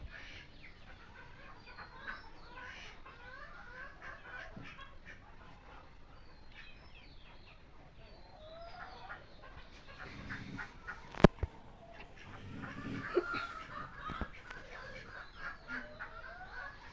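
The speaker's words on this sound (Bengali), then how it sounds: "আমার মোরগটা যেখানে খাবার দেবে সেখানে সে আছে।" Desi chickens and a rooster cluck and peck at feeding time in a backyard, with soft scattered clucks throughout, a few sharp sounds near the middle, and a voice talking over them.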